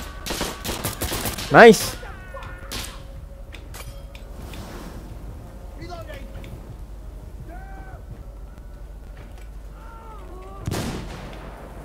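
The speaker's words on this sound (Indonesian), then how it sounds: "Kita lempar frag aja, gan!" A frag grenade and gunfire in a shooter video game: a loud burst of shots early on, scattered crackling and mechanical clicks through the middle, then another sharp blast near the end, with a player's brief voice over it.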